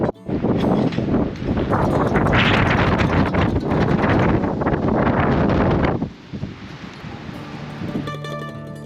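Strong wind gusting through an outback camp, loud buffeting roar battering the microphone for about six seconds before easing to a softer rustle.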